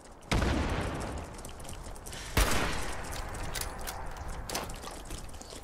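Two sharp blasts with lingering rumbling tails in a Fallout 76 firefight, fitting a grenade explosion, the first near the start and the second a couple of seconds later.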